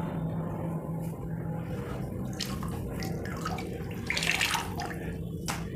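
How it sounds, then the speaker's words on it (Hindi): Water pours steadily into a tub being filled for washing a mosquito net, a continuous splashing rush with brief brighter splashes, no talking. "ये थोड़ा सा हमने पानी लिया है जितने में मच्छरदानी इसमें डिप हो जाए"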